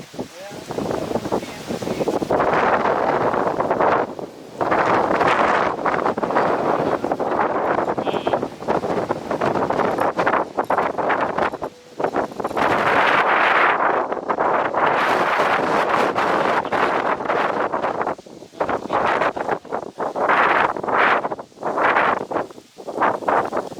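Strong wind roars and buffets the microphone continuously, with gusts rising and falling and a rustling quality throughout.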